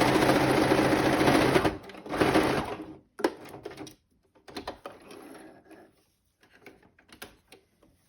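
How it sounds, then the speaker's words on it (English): A sewing machine runs a continuous stitch along the edge of a fabric mask for about two seconds, then stops and gives a few short, fainter bursts of stitching with handling noises in between. "I'm sewing on this other edge again."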